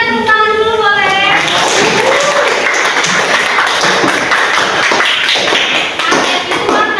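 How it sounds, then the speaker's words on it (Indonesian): Classroom applause at a teacher's request, a burst of rapid hand clapping from many students filling the room, starting over a voice and continuing steadily for several seconds. "tepuk tangan dulu boleh"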